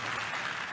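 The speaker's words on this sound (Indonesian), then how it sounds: "Tepuk tangan yang paling meriah buat Tuhan." Church congregation applauding during a sermon, a steady wash of clapping heard briefly and at a moderate distance, with no voices over it.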